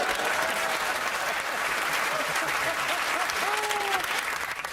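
A studio audience at a comedy panel show claps in a dense, even burst that holds steady throughout, with faint voices or tones rising briefly over the applause.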